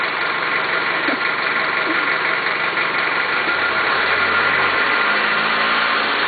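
A car engine running steadily during a driving lesson, a constant loud rumbling drone throughout, with faint voices now and then in the background.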